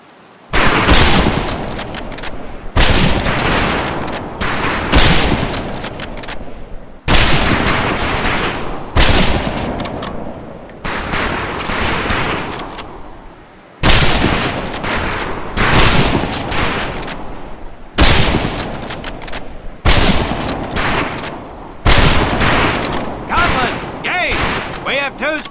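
A rifle volley rings out at a firing range in the video game Medal of Honor: Pacific Assault, with loud, close shots fired over and over in repeated bursts and short gaps between them.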